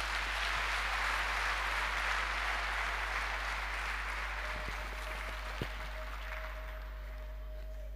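Church audience applauding a bishop, a steady dense wash of clapping from many hands throughout, easing slightly toward the end with a faint sustained tone underneath.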